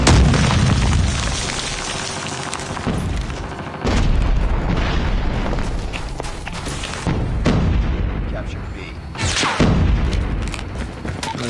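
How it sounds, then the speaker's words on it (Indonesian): A bomb blows up in Call of Duty Mobile with a loud, close boom and a long rumbling tail, followed by more blasts and bursts of gunfire. "Buset nih bom. Keren ya bomnya."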